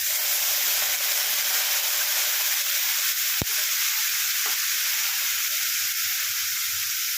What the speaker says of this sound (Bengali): একটু আদা বাটা, আর একটু জল দিয়ে দেবো, এতে পেঁয়াজটা পুড়ে নেয়।